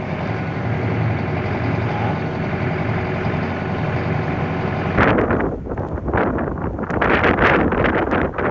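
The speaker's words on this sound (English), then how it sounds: "With the wind blowing like it is right now" Strong wind roars steadily across a microphone outdoors during a snowstorm, a dense continuous rush that turns gustier and more buffeting partway through, with no voices.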